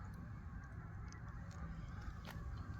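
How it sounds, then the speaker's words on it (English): Geese honk faintly in the distance of a quiet town, a few scattered calls over a low, steady background hum, with no speech. "I hear the honkers."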